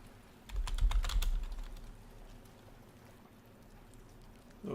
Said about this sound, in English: Okay, some keyboard ASMR.